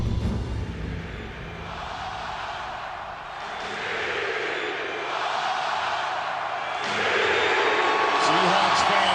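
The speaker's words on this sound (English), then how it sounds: "This crowd right here is ready for a repeat." A large crowd of Seattle Seahawks fans at Pioneer Square roars and cheers in a continuous wash of noise that builds toward the end, with a voice talking close over the din.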